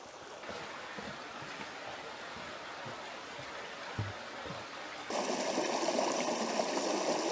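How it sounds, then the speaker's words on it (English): Steady rushing water flows throughout, growing suddenly louder and brighter partway through, with a faint thump near the middle. "So we've got a nice little creek down here."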